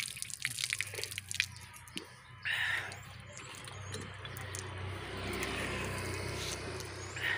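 Water gushing from a hand-pumped shallow well, a steady broadband splashing rush that swells and holds after a brief pause, close and fairly loud with the pump's creak at times.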